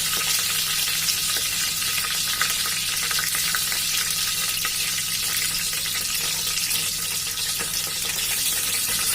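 Chopped onion sizzling steadily in hot oil in a pan while a mutton drumstick curry is being cooked, a dense continuous frying hiss close by with no talk.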